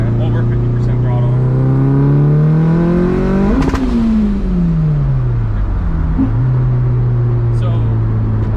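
Mitsubishi Evo 5 engine climbing in revs to the limiter, a loud, close rising whine that peaks, bounces off the limiter, then falls and holds at a lower pitch, with voices talking over it.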